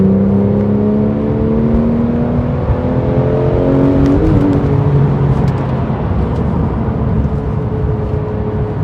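A Porsche 911 GT3 of the 991.1 generation revs its engine on wet roads, a loud, steady mechanical roar with tones that climb and hold, close and continuous throughout.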